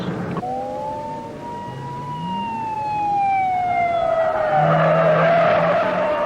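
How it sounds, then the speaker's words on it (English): Tires of a police patrol car squeal loudly and continuously as it corners hard through consecutive turns, the pitch gliding down and swelling with engine roar toward the end. "Another left turn, we come into the curve to our apex, finish the turn outside, right back into another left turn"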